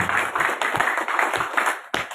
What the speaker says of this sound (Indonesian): Tepuk tangan untuk menanti